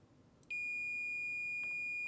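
A multimeter on its continuity setting sounds a beep while testing the float switch of a Whirlpool dishwasher. The single steady electronic tone starts after a brief quiet moment and holds unbroken to the end.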